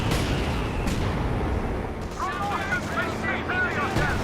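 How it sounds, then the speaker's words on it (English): A coordinated artillery barrage in Company of Heroes 2 fills the clip with continuous booming blasts and rattling gunfire, while a commentator keeps talking over the battle. "Has the coordinated barrage being summoned."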